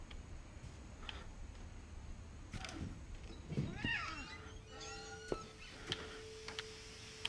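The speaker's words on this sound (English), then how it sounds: "I hear a cat." A cat meows in the video game What Remains of Edith Finch, a few faint, short meows with rising and falling pitch over soft ambient game sound and light ticking.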